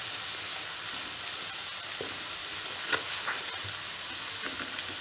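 Coarsely crushed garlic frying in a pan, giving a steady, even sizzle with small pops and crackles and no talk over it.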